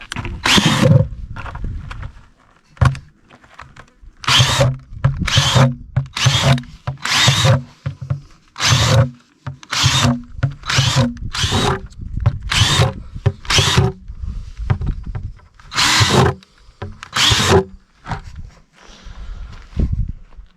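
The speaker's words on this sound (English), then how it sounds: "now I'm going to drill some holes in the bottom of the bucket" A power drill whirs in a series of short, loud bursts with brief pauses between, boring holes repeatedly through the bottom of a plastic bucket.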